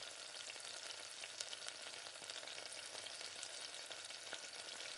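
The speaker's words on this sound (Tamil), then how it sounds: "எண்ணெய் நல்லா சூடாகினதுக்கு பின்னாடி வெங்காயத்தை சேர்த்துக்கோங்க" Onions fry in hot oil in a pan, a soft, steady crackling sizzle that continues unbroken with faint stirring scrapes and no voices.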